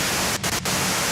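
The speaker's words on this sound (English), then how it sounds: "you can do it through the white noise" Radio static hisses as a steady wash of loud white noise in the Disco Elysium video game, briefly broken by two short dropouts.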